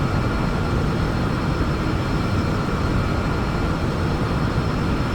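Steady, loud jet engine roar from a simulated Boeing 737-800 in X-Plane 11, a continuous broadband rush that holds even throughout with no talking.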